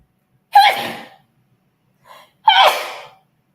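Two sharp sneezes, close and loud, about two seconds apart, with a short faint breath between them and silence around.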